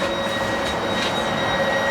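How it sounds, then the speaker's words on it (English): A train rolls along at speed, a loud steady rumble and rushing roar with faint high whine tones, heard from inside the carriage and continuous throughout. "We're actually going to get on a train."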